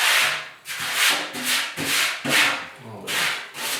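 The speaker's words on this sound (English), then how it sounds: "Just gonna sand it with some 280 grit." Primer on the inner panels of a 1956 Ford pickup being hand-sanded with 280 grit sandpaper: loud, close, rhythmic back-and-forth scratchy strokes, about eight in a row with brief gaps.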